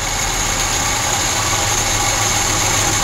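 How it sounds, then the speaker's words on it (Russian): An injector-equipped Audi converted to a 21041 carburetor idles steadily, a loud, even engine hum with a constant low drone, close by and without voices. "Вот вам холостой ход."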